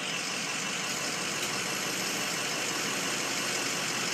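A skid steer's engine runs steadily at a constant pitch while the machine is rigged with tree gear to climb a steep bank; the drone is loud, close and unbroken throughout, with no talk.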